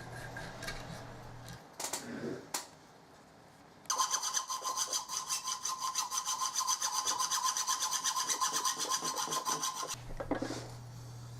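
A hand saw rasps steadily through a brass lock part held in a vice, in quick, even back-and-forth strokes, close and fairly quiet, after a few brief knocks and scrapes.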